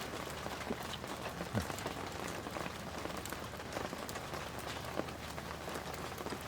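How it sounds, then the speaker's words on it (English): Hail falling outdoors, a dense steady patter of many small impacts hitting surfaces, with a few sharper louder strikes standing out against the continuous wash. "Oh, now it's hailing."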